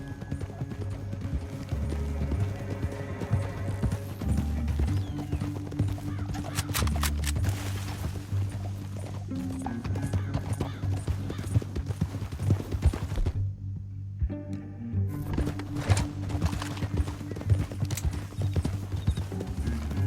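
Horses trot in the Red Dead Redemption 2 video game: a steady, close clip-clop of hooves runs throughout under a low game ambience, with a brief quieter gap partway through.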